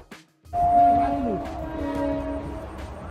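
At Renigunta railway station, a train sounds a sustained, tonal horn blast close by, lasting about two seconds over rumbling platform noise after a brief quiet start.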